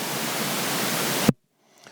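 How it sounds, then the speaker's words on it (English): Steady, loud white noise from an XVIVE AT-1 portable audio tester fills the clip, then cuts off abruptly, leaving near silence with a faint trailing sound. "If I push this button here, it's going to switch to our white noise."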